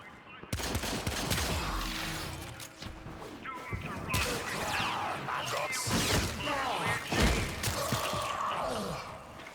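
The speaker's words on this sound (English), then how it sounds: "let me demonstrate this while using the Lotto, the second weakest gun in the entire game" Rapid gunfire from the Lotto in the shooter game Warframe, a dense string of loud shots with crashing impacts running throughout, mixed with someone talking over the action.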